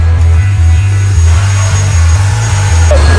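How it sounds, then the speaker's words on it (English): Ship diesel engines running aboard the USS Mobile during its commissioning, a loud, close, continuous low drone that pulses steadily throughout. "Those are our diesel engines online."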